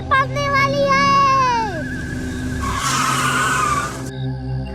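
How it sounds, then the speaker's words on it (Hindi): Cartoon car skidding to a sudden stop, a long loud falling tire squeal followed by a harsh scraping rush that cuts off abruptly, under a child-like cartoon voice. "ये तुमने गाड़ी रोक क्यों दी अचानक?"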